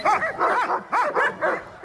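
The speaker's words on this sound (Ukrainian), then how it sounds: "Канекорса сильна собака." A Cane Corso barks in a series of four or five loud, close woofs with a slightly whiny, yelping edge, coming in two quick pairs and then a single bark, with no other sound between them.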